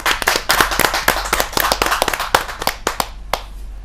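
Scattered, sharp hand claps from a small audience at a poetry gathering, welcoming a poet on stage; close and irregular, thinning out toward the end.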